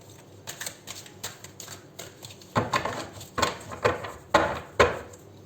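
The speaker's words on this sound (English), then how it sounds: "this is a bit of a tricky deck that doesn't shuffle very easily" A hard-to-shuffle deck of cards being shuffled by hand gives a series of soft riffling bursts and clacks, quieter at first and then louder, uneven strokes in the second half.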